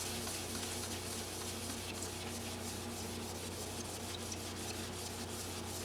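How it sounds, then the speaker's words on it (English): Polishing a scratched Guild D25 acoustic guitar with a black sparkle finish makes a steady, soft rubbing and scrubbing sound, close and continuous with no talking. "I could just start polishing it with this and get a good result"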